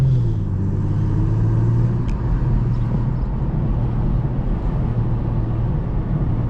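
A car engine held in third gear at about 2300 rpm drones steadily and loudly from close by with a low rumbling tone; no distinct exhaust pops stand out.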